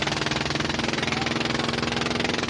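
A fishing boat's engine runs steadily at close range, a dense, even mechanical drone with a rapid pulsing chug throughout.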